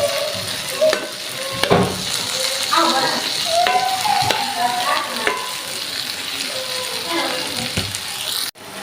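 Chopped onion and garlic frying in a hot pan with mustard oil, a steady crackling sizzle broken by occasional scraping and clinks of a utensil, close by with no talk.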